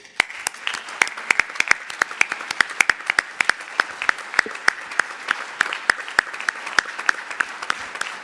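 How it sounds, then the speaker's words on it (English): Applause from a conference audience welcoming two organisers to the main stage of a nuclear forum, a steady bed of many hands with distinct sharp claps standing out close by throughout. "a big applause for them"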